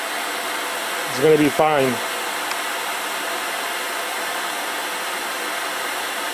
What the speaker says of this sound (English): So I just run the hair dryer for a minute